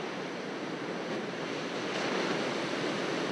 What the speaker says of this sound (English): the noise of the surf getting louder